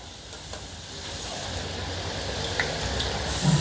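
Chana dal fries in hot bubbling oil, giving a loud, steady sizzling hiss that swells slightly near the end, with no voices.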